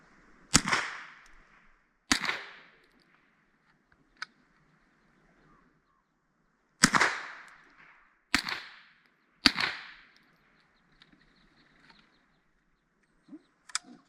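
Sharp reports from a Marlin Glenfield Model 60 semi-automatic .22 Long Rifle, several single shots spaced a second or more apart with a short ringing tail, then two fainter pops near the end.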